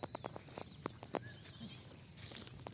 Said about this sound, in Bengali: ছাগলগুলো